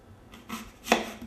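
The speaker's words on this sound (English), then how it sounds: "I'm just going to be chopping up some apples very small, and I'm including the peels" A knife chops apples with the peels still on into small pieces, giving a few soft, close taps on a cutting board with no talking.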